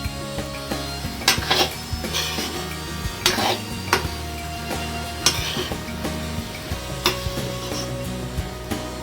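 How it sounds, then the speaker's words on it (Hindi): A utensil stirs and scrapes poha with spices in a pan for Maharashtrian-style kanda poha, with intermittent clanks and scrapes over a steady hum. "तब सारे मसालों को मिक्स कर लेंगे इसके अंदर"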